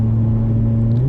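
A car accelerates hard out of a corner toward turn eight on the Sentul race circuit during a track day. The engine gives a loud, close, steady drone whose pitch climbs slightly at the end.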